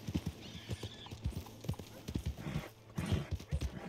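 A horse in the video game Red Dead Redemption 2 clip-clopping with a steady rhythm of hooves, a brief whinny partway through and quiet game ambience beneath.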